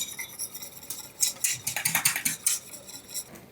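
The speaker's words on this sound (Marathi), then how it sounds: "असं रवीने हलकं घुसळून घ्यायचं" A wooden churner whisks boiling milk tea to make basundi tea. Quick bursts of rattling and clattering against the pot are heard up close, with a faint background between the strokes.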